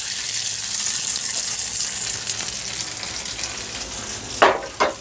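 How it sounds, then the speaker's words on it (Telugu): Hot tempering poured into tomato coriander chutney, a loud steady crackling sizzle throughout, with a couple of sharp spitting bursts near the end. "ఇప్పుడు మనము ముందుగా మిక్సీ పట్టి పెట్టుకున్న చట్నీలో ఈ తాలింపు వేసేసుకోవాలి"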